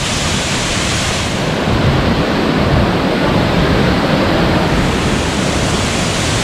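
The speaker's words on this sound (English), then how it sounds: "May waterfall sila dito guys," Broadband rushing water from a waterfall at a forest spring inland resort, a steady close roar with no let-up and no voices.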